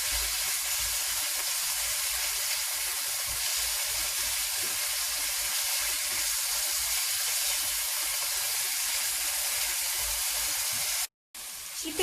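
Chicken pieces frying in a pan with a steady, loud sizzle and hiss of hot oil that holds evenly throughout, then drops out briefly near the end before returning.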